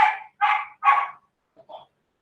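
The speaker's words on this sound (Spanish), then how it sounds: "esos chuchos que no estén ladrando." Three short, sharp dog barks in quick succession, followed by a pause and a couple of softer, fainter yips.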